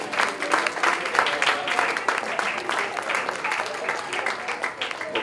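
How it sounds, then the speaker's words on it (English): Conference audience at a gender studies event breaks into steady, moderately loud applause, a dense patter of many hands clapping throughout with some crowd murmur beneath. "Please, a round of applause for them."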